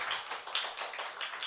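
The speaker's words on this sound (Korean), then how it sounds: "또 박수로 또 감사 전하도록 하겠습니다" A congregation at a Korean young adults' Sunday church service applauding, a dense, even burst of many hands clapping together that fills a room, heard alone without talking.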